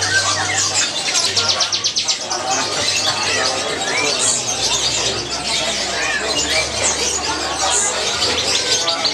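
Many caged birds, including lovebirds, chirping and twittering at a bird market in Semarang, a dense busy chorus of overlapping calls close by with low background hum and market bustle.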